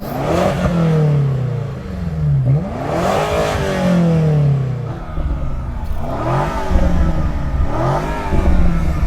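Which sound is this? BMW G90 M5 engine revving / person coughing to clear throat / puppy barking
BMW G90 M5 engine revving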